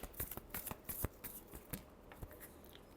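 Tarot cards are shuffled by hand close up, a soft run of quick riffling flicks and taps in irregular bursts, quiet and with no voices.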